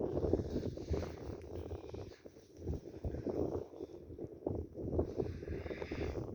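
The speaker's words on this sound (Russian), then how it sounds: "Здесь уже ветер поднимается" Gusty wind buffeting the microphone outdoors, rising and falling in rough low rumbles.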